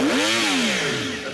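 A motorcycle engine at a mini-moto track revs once in a short rising then falling whine, close and loud.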